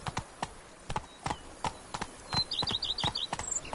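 Hooves of the horse Roach in The Witcher 3 pound in a quick galloping clip-clop rhythm, close and distinct, with brief game sound effects chiming in near the end.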